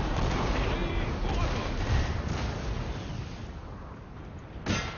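Units trading fire in a Napoleon: Total War battle, a dense continuous rumble of musket and artillery volleys with a sharper burst near the end, voices talking over it.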